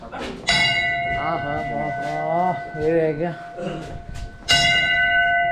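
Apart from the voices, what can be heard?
bell rung at Jakhu Hanuman temple, Shimla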